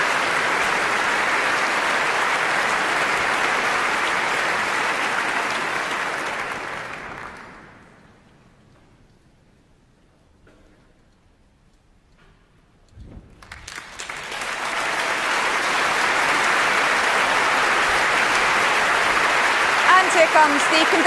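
Concert hall audience applauding the leader of the BBC Symphony Orchestra at a Proms concert, sustained dense clapping that dies away to near silence, then swells again into steady loud applause.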